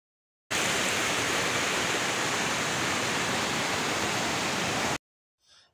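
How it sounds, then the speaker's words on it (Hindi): Clear, cold stream of water running below a waterfall in Azad Kashmir, a loud, constant broadband rush that starts abruptly and holds steady before cutting off, with no voices. "नीचे एक साफ पानी का नाला भी बह रहा है"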